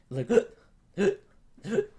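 A voice imitates hiccups with three separate vocal hiccup sounds, spaced evenly and close up, each a short voiced burst with quiet gaps between.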